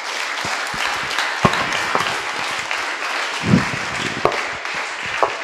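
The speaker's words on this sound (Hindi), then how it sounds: "अरे तालियां दे दो भाई बस।" Audience applause at an Advaita bhakti satsang, a dense burst of many hands clapping steadily for several seconds, close and loud with scattered sharper claps.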